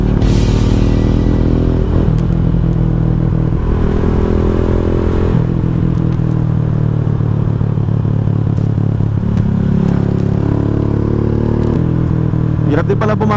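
A Rusi Sigma 250 motorcycle carrying a passenger runs steadily with a loud, continuous engine drone and wind noise, its pitch rising and falling through gear shifts on a mountain road.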